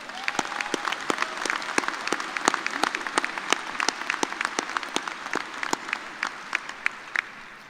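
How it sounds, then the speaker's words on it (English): Audience applause at a spring commencement ceremony for the organist who played the graduations, a steady crowd of many clapping hands throughout, moderately loud with sharper individual claps standing out. "Let's give Stephen a round of applause."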